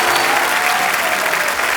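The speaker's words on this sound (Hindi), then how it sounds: "जोरदार तालियां एक बार" A studio audience at a comedy talk show applauds, a dense continuous wash of many hands clapping, loud and close throughout.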